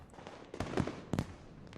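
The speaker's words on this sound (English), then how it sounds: "Fireworks." Fireworks exploding over a school at night in the visual novel Katawa Shoujo, a cluster of loud booming bursts with crackle, two strongest blasts about half a second apart, no voices.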